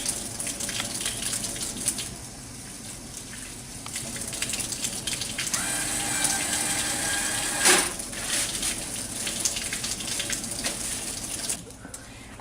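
A tap runs in a medication room while hands are washed beneath it, a steady close rush of water with splashing changes and a brief louder burst midway.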